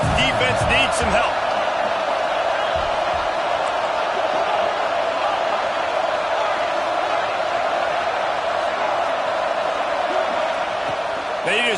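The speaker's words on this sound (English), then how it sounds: "This crowd rising up, sensing that its defense needs some help." A football stadium crowd at an Oregon versus Baylor game roars in a steady, dense wall of cheering that holds throughout, with a commentator talking over it.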